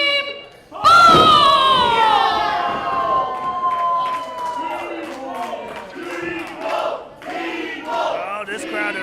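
A wrestling crowd roars for a tag team entrance at an independent show, a loud surge of shouting and cheering with a rising yell, continuing in waves of whoops and chants.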